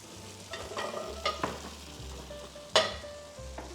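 Tofu fries in hot oil with steady soft sizzling, broken by a few sharper crackles and spatters from stirring or turning. It sits close and fairly quiet, with no talking.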